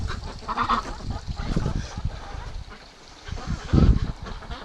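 Hungry ducks and geese in a breeding pen honk and quack in a dense, continuous chorus, with louder honks bunching near the end, close and busy with no talk.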